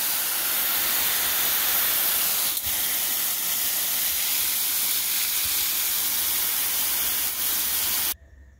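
Water sprays steadily from a hose onto fresh soil filling a stock tank raised bed, a close, continuous hiss that runs unbroken for about eight seconds before stopping abruptly.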